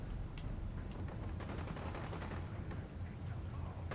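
Continuous automatic gunfire from a modded Fallout 4 firefight rattles in rapid bursts, layered with game explosions and noise in a dense, unbroken wash with no talking.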